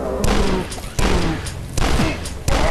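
Dual pistols firing in the shooter game DUSK, four loud sharp shots spaced under a second apart, each followed by a brief echoing tail over faint game sounds.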